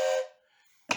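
A wooden toy train whistle gives one short, breathy tooting blast that fades quickly, followed by near silence and a small click at the end.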